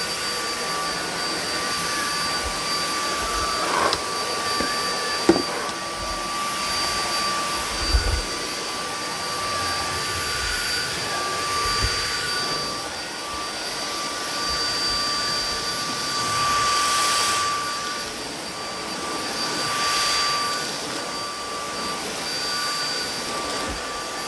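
A Samsung cordless vacuum cleaner runs at full power indoors, a steady loud whirring whine with faint bumps and shifting pitch as it moves across the floor, no talking.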